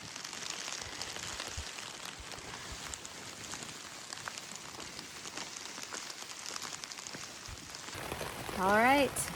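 Steady all-day rain falls on the Appalachian Trail, a continuous hiss of drops on surfaces near the listener, with a brief rising whistle-like sound near the end.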